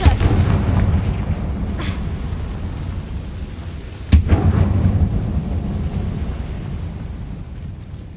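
A Confringo blasting spell detonates in a Harry Potter video game, a loud booming explosion with a long rumbling tail, a second sharp blast arriving midway and rolling on under steady low roar.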